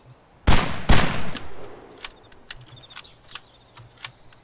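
Gunfire from the survival video game DayZ: two loud close shots in quick succession, followed by a string of fainter, more distant cracks and pops scattered across the remaining seconds.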